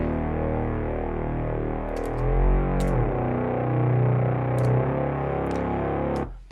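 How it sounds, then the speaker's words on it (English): A thick, growling detuned Reese bass synth drones steadily and loudly in a track's breakdown, swelling and wobbling, then cuts off abruptly near the end. "what we added in the breakdown was this Reese bass"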